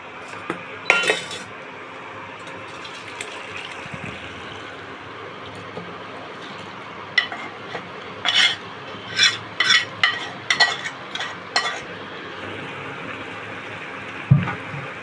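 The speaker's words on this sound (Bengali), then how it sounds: "মাছটা হয়ে গেছে এবার নামিয়ে দেবো ঢেলে নিই মাছটা" Puti fish curry made with onion and squash is poured and scraped out of a cooking pan, giving scattered metallic clinks and scrapes of a utensil against the pan over a faint background hiss, with no voices.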